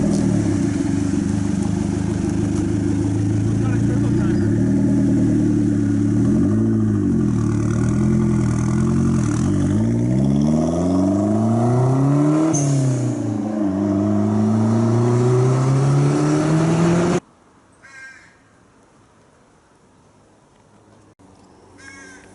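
A Nissan Z's engine revs and accelerates loudly and close for about seventeen seconds, its pitch rising and falling through several gear changes, then cuts off abruptly, leaving faint background noise.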